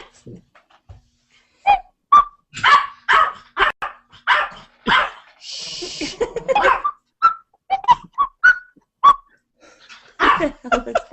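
A pet dog barks and whimpers repeatedly in a home in reaction to an ocarina, with short yips and barks scattered across the stretch and a brief high whistling tone in the middle, all close and fairly loud.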